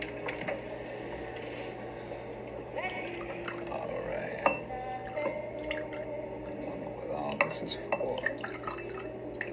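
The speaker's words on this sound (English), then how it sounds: "Stop pouring." A drink is poured into a glass, with faint trickling and dripping liquid and light glass clinks under people talking in a room.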